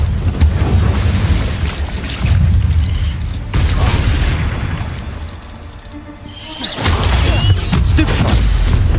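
Fiery Confringo spell blasts in the Hogwarts Legacy game: loud, booming explosions layered over dense combat noise, with heavy low rumbles and crashing bursts that keep going across the stretch and ease off briefly before surging back.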